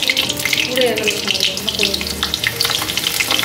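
Carrots, capsicum, onion and garlic frying in white oil, a steady busy sizzle and crackle running throughout with faint kitchen clatter, close and fairly loud.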